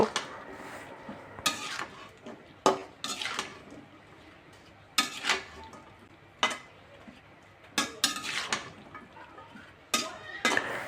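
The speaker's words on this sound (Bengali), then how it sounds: "এখন আমি এই লতাগুলি এই মশলার সাথে ভালো করে নেড়ে চেড়ে মিশিয়ে নিব" Taro stolons being stirred with prawns, dried fish and spices in a pan, heard as a string of sharp metal spatula scrapes and clinks against the pan every second or so over a faint sizzle, with no voices.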